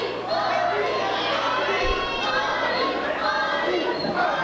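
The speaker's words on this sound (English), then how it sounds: "The crowd is rocking." A wrestling arena crowd during a Hardy Boyz tag match, with a dense, loud roar of cheering and chatter filling the whole stretch, sustained and close, with a commentator-like voice mixed in.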